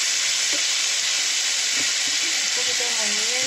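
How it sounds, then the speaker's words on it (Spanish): Chopped onion and garlic added to browned pork in a hot pan, frying with a loud, continuous sizzle and hiss close up, with faint stirring scrapes underneath. "le vamos a agregar la cebolla y el ajo que hemos picado antes"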